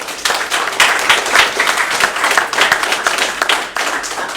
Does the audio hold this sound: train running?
no